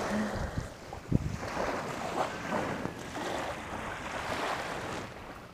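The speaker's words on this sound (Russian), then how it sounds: "Ветер такой прохладный дует." A cool wind blows outdoors in Mersin, Turkey, a steady broadband rush with gusts and one sharp knock near the start, with no talking.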